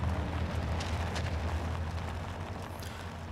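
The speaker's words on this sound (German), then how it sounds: "sie hätten die Szene mit der Explosion ruhig ein bisschen länger halten können" A large explosion in the Red Faction video game, a sustained, loud, broadband roaring blast that stays dense and booming throughout without speech.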